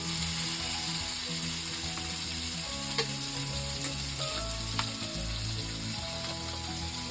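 Onion sizzles and fries in ghee over a wood-fired chulha stove, with a steady crackling hiss throughout and a few sharp clicks and taps of stirring.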